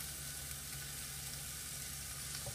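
Vegetable oil sizzling in a frying pan while cooking vegetables with chicken liver, a steady soft crackling hiss heard up close and quietly, with no voices.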